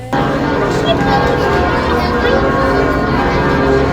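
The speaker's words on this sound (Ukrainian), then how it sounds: "ну тут дзвенять дзвони" Church bells ring at Notre-Dame de Paris in the evening, a loud, sustained metallic peal with steady overlapping tones that fills the whole stretch, with faint voices beneath.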